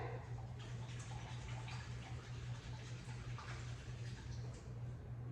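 Running water rinses cold process soap-making equipment, a faint, steady splashing trickle with light gurgles and drips, continuous and fairly quiet.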